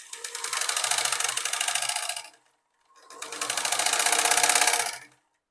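Two steady bursts of a sewing machine stitching a strip for a baby elastic frock, fast even needle chatter ramping up, holding, then stopping, with a short pause between runs.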